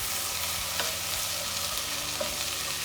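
Potato and vegetables sauté in a pan for a tomato and basil soup, giving a steady, even sizzle with a few faint stirring clicks, close and moderately loud, with no one talking.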